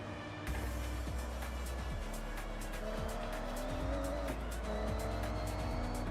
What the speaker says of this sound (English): Plus it's Forza Edition Miata.